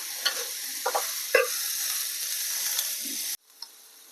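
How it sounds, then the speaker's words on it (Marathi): Tomato softening in a hot pan with onion and coriander, a bright steady sizzle broken by a few stirring scrapes and clinks before it cuts off abruptly near the end. "1-2 मिनिटासाठी फक्त आपल्याला परतून घ्यायचं आहे, खूप जास्त सुद्धा परतत बसायचं नाही। टोमॅटो आपल्याला थोडासा मऊ करून घ्यायचा आहे।"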